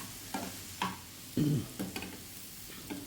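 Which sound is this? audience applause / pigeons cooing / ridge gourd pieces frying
ridge gourd pieces frying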